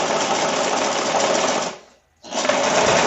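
Sewing machine running steadily as it stitches one seam over another on overlapped fabric, a close whirring buzz that stops briefly for a moment and then starts again.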